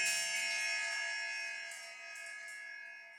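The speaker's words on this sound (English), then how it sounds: "I'm going to let the clock finish chiming so it won't interrupt what you may need to hear from me" A clock chime rings indoors in a line dance studio, its sustained bell tones layered and slowly decaying over several seconds, fairly quiet, with no talking.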